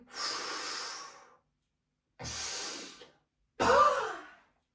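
Three long, breathy exhalations during a stretching exercise, each lasting about a second and separated by silence, close and clear with no talking, the last one slightly louder and rougher.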